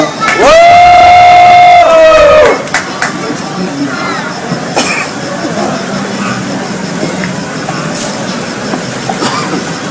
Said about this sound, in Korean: 큰 함성으로 오셔주시면 감사드리겠습니다